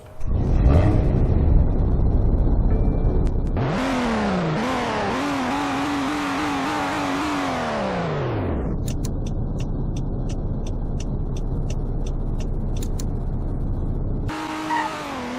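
Simulated 2021 BMW X3 M Performance Shadow Edition engine in a Roblox driving game: an idle is followed by a loud rev that climbs through several gear shifts and drops off, then a steady drone with rapid ticking and another rev at the end.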